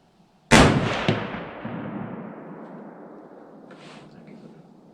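A Ruger American .30-06 rifle firing a single round of surplus ammunition outdoors at a range, one loud sharp crack followed by a long rolling echo that fades, with a faint brief voice near the end.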